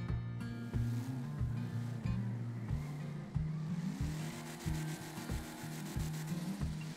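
A 1970 Dodge Charger General Lee with a supercharger blower poking out of the hood idles close by with a deep, loping, uneven rumble that pulses steadily throughout, with no talking.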